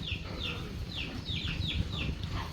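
Chickens at a farm pen cluck repeatedly in short, rising calls, several birds close by over a steady low rumble of background noise.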